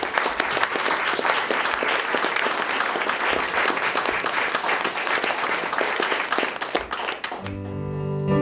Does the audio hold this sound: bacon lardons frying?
no